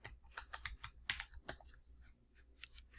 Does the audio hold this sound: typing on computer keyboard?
yes